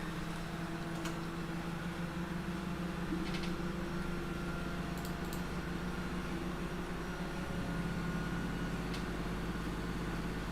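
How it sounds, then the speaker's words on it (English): A washing machine runs in another room, producing a faint, steady mechanical drone with sustained low hums and tones that persist evenly throughout, with a few soft clicks and rattles. "I don't think my washing machine should be making those noises"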